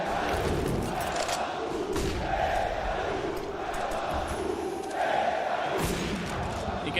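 A packed esports arena crowd at a Counter-Strike event jeers and chants at a player, rising in loud rhythmic surges with thumps, and some voices shouting in the mix.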